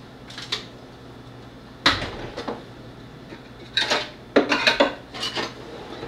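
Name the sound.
bench scraper being picked up and used on pasta dough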